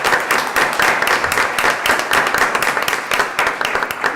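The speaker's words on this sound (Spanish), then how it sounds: "yo diría que nos demos y se den ustedes mismos un aplauso" An audience applauding at the close of a training course, dense rapid clapping sustained throughout at an even level, fairly close.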